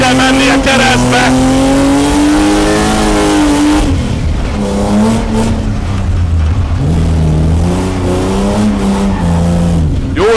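A car engine revs hard and repeatedly, rising and falling in pitch, with tyre squeal and skidding on a loose surface, loud and close; voices are heard briefly underneath.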